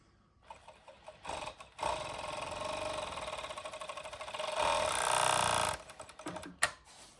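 A JACK C7-4 overlock sewing machine runs in a fast, steady mechanical whir for about four seconds, rising briefly near the end when it trims the thread, with a few clicks before and after.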